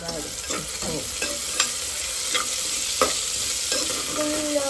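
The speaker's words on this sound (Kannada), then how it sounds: "ಸ್ವಲ್ಪ ಬ್ರೌನಿಶ್ ಬ್ರೌನ್ ಬರೋ ತನಕ ಫ್ರೈ ಮಾಡಬೇಕು" Green chillies frying in a pan for peas pulao, a continuous bright sizzle with repeated spatula scrapes and stirs at irregular intervals, close up and without talk.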